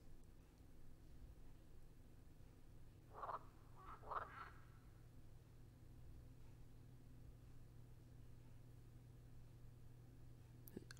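Frogs in the Super Mario Odyssey video game give two short croaks a second apart. The croaks sound faint over a low, steady background hum.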